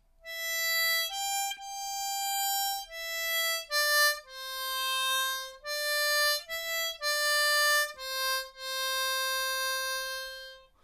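Harmonica in C plays the second line of the New World Symphony theme by Dvořák, slow sustained single notes with brief breaths between them, close and solo with no speech.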